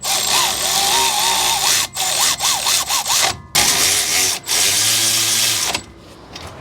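A power tool snugs the caliper bolts on a 2002 Dodge Dakota SXT front wheel. It gives a loud, close whirring that wavers in pitch, broken by a few short pauses, with no talking.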